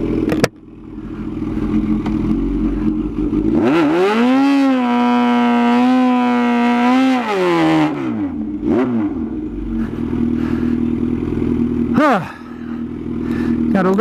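A Kawasaki ZH2 motorcycle on a drag test run, the engine revving hard and climbing through the gears in a loud, sustained pull, then dropping back to a rough idle, with speech nearby.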